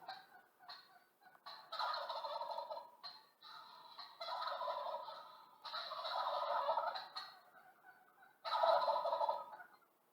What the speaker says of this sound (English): And this is how turkeys sound.